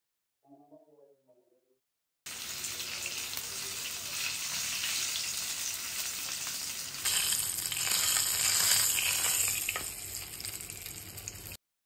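Three dried red chilies fry in hot oil with a continuous close sizzle that grows louder partway through, after a brief snatch of voice at the start.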